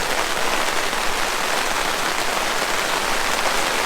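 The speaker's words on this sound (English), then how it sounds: "the rain is coming down a little harder than I expected it to" Heavy rain pours steadily at a campsite on a wet New Year's Eve camping trip, a dense, constant hiss with no pauses and no voices.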